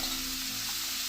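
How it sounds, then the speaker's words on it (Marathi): Garlic and softened onion fry in a pan during prawn curry preparation, giving a soft, steady sizzle with faint stirring, fairly quiet and continuous. "आपण याच्यात आता लसूण घालूया। लसूण घातल्यावर थोडं ढवळून घ्यायचं।"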